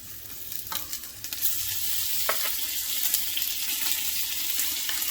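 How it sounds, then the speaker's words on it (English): Roast beef pieces hitting a hot pan burst into a loud, continuous close sizzle after a few clinks and pops, the searing hiss then holding steady with no voices. "I'm just getting a nice sear on it."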